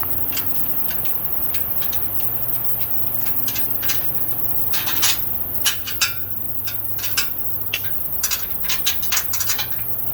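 Bolts on a greenhouse roof are tightened, with quick metallic ratcheting clicks and taps that start about midway and continue in uneven bursts over a steady background hum.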